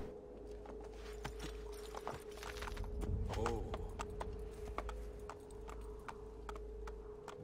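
Hooves of a horse clip-clop irregularly in Assassin's Creed II, sharp taps spread over several seconds above a constant low game hum, with a brief spoken exclamation near the middle.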